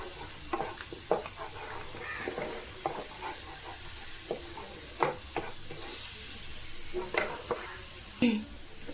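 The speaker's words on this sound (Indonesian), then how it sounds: "Ini kita tumis ya bumbunya teman-teman, sampai bau wanginya hilang." A blended paste of garlic, candlenut and coriander is stir-fried in a pan, with soft continuous sizzling broken by repeated scraping and stirring taps, quiet and close, with no talk.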